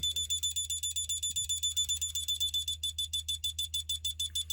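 A high-pitched Snap Circuits oscillator tone sounds continuously, then breaks into rapid, regular beeping pulses, with a low steady hum underneath.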